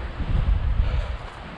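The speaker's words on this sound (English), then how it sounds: "it's really windy" Blustery wind roars into the microphone in steady gusts on a mountaintop, a low rumbling buffet that swells and eases without pause.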